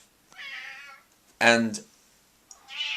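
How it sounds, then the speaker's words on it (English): A pet cat meows loudly and close by, with one strong drawn-out harmonic cry in the middle and shorter, softer meows before and after, while a person says a word. "I apologize for my cat"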